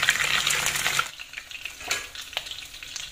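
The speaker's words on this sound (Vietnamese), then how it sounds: "Chiên một mặt cho vàng hẳn xong rồi sau đó mình sẽ trở lại mặt mặt kia nha các bạn." Pomfret fish frying in a pan with a steady, close sizzle that thins out after the first second, leaving a quieter crackle with a few faint clinks and pops.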